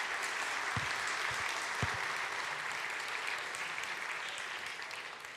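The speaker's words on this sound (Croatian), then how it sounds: "Još jedan veliki aplauz za Nedimovo predavanje." Sustained applause from a conference audience after an SEO lecture, a dense, even wash of clapping that holds steady and fades slightly toward the end.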